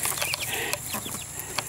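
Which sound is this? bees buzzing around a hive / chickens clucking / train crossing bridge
chickens clucking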